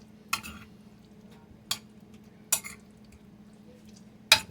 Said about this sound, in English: Alright, mix this up really good.